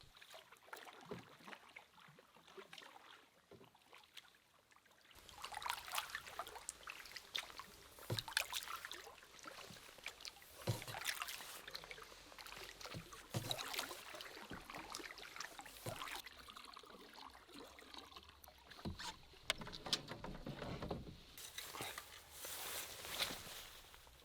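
A canoe on an Algonquin lake: quiet water splashes and trickles from paddle strokes recur irregularly with faint knocks against the hull, soft and close amid low ambient calm, no talking.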